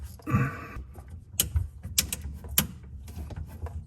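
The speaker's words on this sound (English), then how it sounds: "you can kind of hear that snapping" Several sharp plastic snaps and cracks ring out at irregular intervals over a low mechanical rumble, close by, as plastic is cut while installing a Kohler kitchen faucet.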